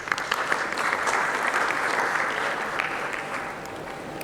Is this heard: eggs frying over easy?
no